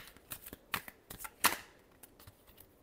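Tarot cards being shuffled, a string of soft papery riffles and taps with one louder flurry in the middle, close and quiet with no talking.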